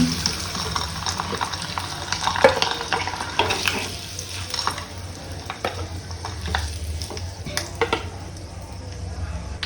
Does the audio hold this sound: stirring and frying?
yes